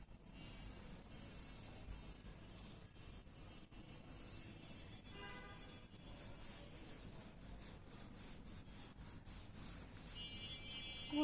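Pencil shading lightly across paper for a sky in a drawing, a soft continuous rubbing scratch with steady strokes, close and quiet, no voices.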